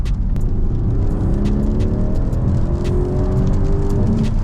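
A Mercedes GLC 63 S with about 500 bhp drives on a rainy road, its engine note a steady, loud rumble that climbs gradually in pitch as it accelerates, with road and rain noise underneath.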